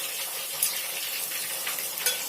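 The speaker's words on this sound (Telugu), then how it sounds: "ఇప్పుడు మనం ఫ్రై చేసుకుంటున్నాం కదా, వాటిని చూద్దాం" Fish pieces coated in spice masala fry in hot oil in a pan for a crispy fish fry, giving a steady close sizzle with a couple of faint clinks. No one talks.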